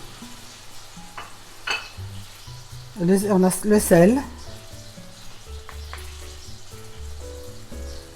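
Diced chicken pieces sizzle and fry in melted butter in a saucepan, a steady close crackle throughout, with a voice speaking briefly in French over the cooking.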